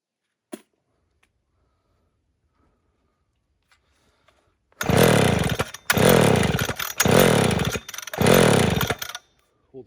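An old McCulloch Super 10-10 chainsaw with a blocked-up carburettor, running for the first time in a long while, roars loudly in four bursts of revving separated by brief dips, following a few seconds of near silence.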